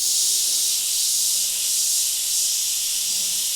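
An airbrush sprays paint in a continuous, steady high hiss, close and fairly loud, with only slight swells in intensity and no talking.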